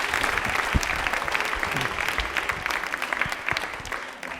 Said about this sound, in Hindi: तालियां एक बार जोरदार बजा दीजिए इनके लिए